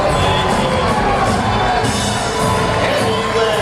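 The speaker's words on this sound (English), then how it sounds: "a big roar went up in this crowd" A packed election-night crowd at Rick Lazio's New York Senate campaign headquarters roars and cheers continuously, loud and close, with whoops and shouts rising through a dense wall of voices.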